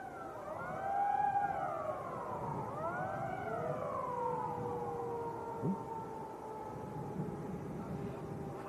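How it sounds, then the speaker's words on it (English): Fire alarm test siren at Leeds Bradford Airport, a wailing tone sweeping up and down in long overlapping rises and falls, moderately loud and continuous over faint background noise. "If you meant the siren, it was the fire alarm test."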